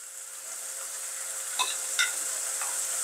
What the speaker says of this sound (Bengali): আমি এবার ভাজার জন্য গোশতগুলো তুলে দিচ্ছি